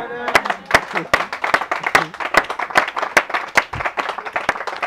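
A church congregation claps in a steady, fast rhythm, the sharp claps repeating evenly throughout with crowd voices mixed beneath them.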